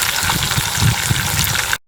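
Water gushing hard in a steady, loud rush while deep-fried fish is being cooked, filling the clip alone before it cuts off briefly near the end.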